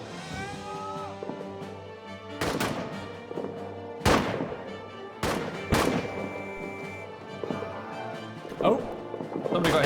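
Gunfire in the trench warfare video game All Quiet in the Trenches: sharp, loud shots and booming blasts come in irregular bursts, some ringing out with long tails, over a continuous low battlefield rumble.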